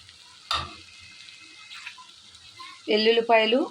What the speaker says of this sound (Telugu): సరిపడా కల్లుప్పు వేసుకున్న తర్వాత ఉల్లిపాయలు వేసుకోవాలి